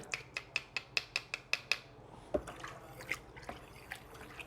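Homemade liquid toilet cleaner is stirred in a tub, first as a quick regular run of about nine sharp liquid clicks and drips, then as irregular softer sloshing, close but quiet.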